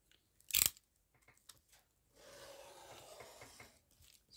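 Scissors cut through a paper window envelope along its fold line: a sharp snip near the start, a few small clicks, then a soft, continuous rasping slice of paper that fades out.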